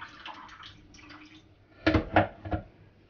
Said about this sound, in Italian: eliminiamo l'acqua